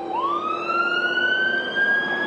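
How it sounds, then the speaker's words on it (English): A wailing emergency siren from responders arriving at a Dayton TV tower rescue sweeps sharply upward and then holds a high, piercing tone. Its overtones ride over a low rumble of vehicle noise, with no talk. "You can hear the sirens in the background coming to their aid"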